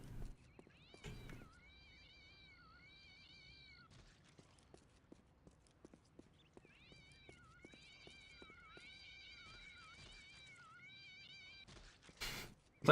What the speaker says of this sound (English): Why is it raining cats though?